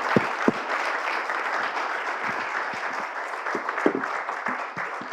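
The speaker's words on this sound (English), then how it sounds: "Can you get an applause for the panel?" Audience applause for a seminar panel at a University of Helsinki teachers' academy anniversary event, a steady wash of many hands clapping, moderately loud and continuous, with a few sharper nearby claps standing out.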